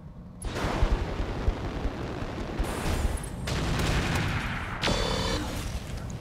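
Rapid, heavy autocannon bursts from an ultra autocannon in the Roguetech BattleTech mech game, loud and dense with explosive impacts, continuous over several seconds with brief pauses between volleys.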